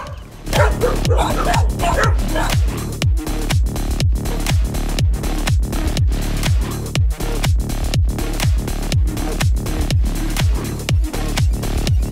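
A dog outside along a road in Trinidad barks over and over in a fast, loud, regular series of close yips and bow-wows lasting the whole stretch.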